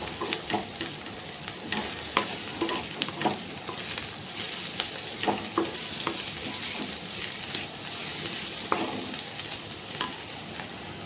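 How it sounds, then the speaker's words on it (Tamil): Onions sautéing in a pan for onion chutney, a constant close crackling sizzle with frequent rhythmic stirring scrapes and taps throughout, moderately quiet and without talking. "இந்த அளவுக்கு வதங்கினதும் நம்ம அடுப்பை நிறுத்திக்கலாம்"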